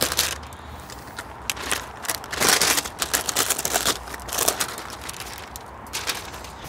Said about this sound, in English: Unwrap the blade.